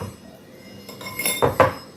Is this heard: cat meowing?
no